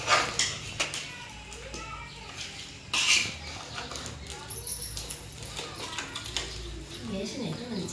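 Mango pickle being stirred together with raw oil, Telangana style, giving soft irregular scrapes and clinks of a utensil against a vessel, close by, with a person speaking throughout.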